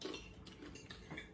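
Cutlery clinks and scrapes against a plate during a meal of dried fish and noodles, a few quiet, close clatters in a soft, irregular rhythm.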